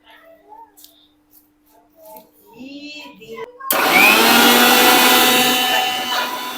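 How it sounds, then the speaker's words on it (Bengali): A mixer grinder blends spinach into a green paste for homemade abir colour, a voice and other talk first, then the motor starts suddenly with a loud, steady whirring roar that holds to the end. "সবুজ রঙের জন্য আগে আমরা পালং শাকটা মিক্সি করে নেবো"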